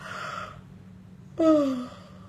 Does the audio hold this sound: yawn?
yes